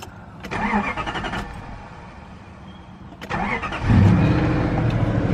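A car fitted with an aftermarket Chinese digital dash is started: the starter cranks briefly, pauses, cranks again, then the engine catches and settles into a loud, close idle.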